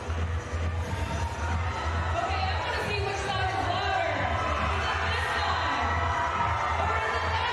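A small but vocal crowd of basketball fans at a women's college game, steady cheering and chatter with shouts, fairly loud throughout as a commentator speaks over it.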